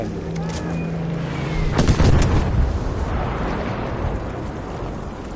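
Battlefield V conquest match: a sudden loud burst of heavy gunfire and a blast with a rumbling tail partway through, after a tonal hum and brief rising whine.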